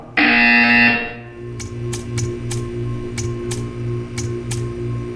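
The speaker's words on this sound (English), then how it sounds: "You will hear a buzzer." A loud electronic buzzer in the video game Portal 2 blares for about a second, then a steady hum continues with regular ticking clicks.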